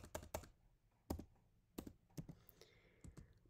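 Typing on a computer keyboard, with a quick, uneven string of close, crisp key clicks and taps, some in fast pairs, heard alone and quietly.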